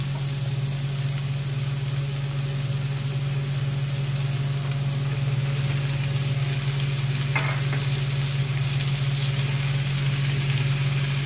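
Eggplant and tofu frying in a pan, a steady loud sizzle running throughout with a constant low hum beneath and one brief scrape of stirring partway through.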